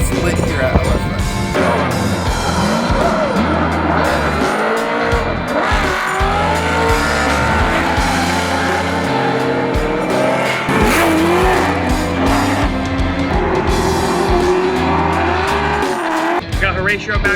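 LS-swapped cars drifting at an LS Fest drift challenge, engines roaring loud and continuous with repeated tire squeals and skids, crowd and voices faint beneath.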